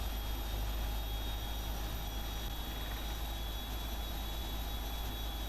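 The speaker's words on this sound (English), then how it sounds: "I really love the sound of the 777." Engine noise from a Boeing 777-300ER in Flight Simulator X, one engine firing up at the gate: a constant, even turbine drone with a thin high whine over a low rumble, heard alone and unchanging.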